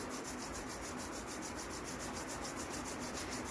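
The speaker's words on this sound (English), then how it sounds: "Now gently rub your palms." Palms rub together in a continuous, even swishing friction during a pranayama yoga session, close and steady with no talking.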